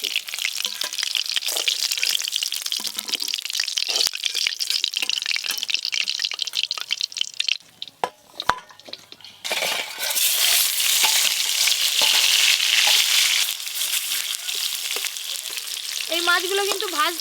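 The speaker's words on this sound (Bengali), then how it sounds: "এই মাছগুলো কিন্তু ভাজতে খুব বেশি সময় লাগেনি, তাড়াতাড়ি মাছ ভাজা হয়ে যাচ্ছে।" River fish fry in hot mustard oil with a loud, close sizzle that dips briefly as the pan is stirred, then surges back into a steady crackle; light clinks come near the end.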